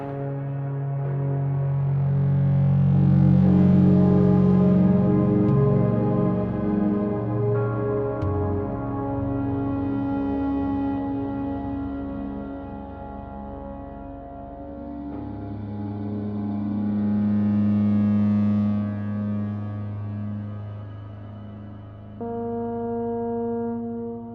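A synthesizer in the SoundBox iOS app holds sustained, layered tones washed in a shimmering reverb, swelling and fading slowly, with chords shifting now and then.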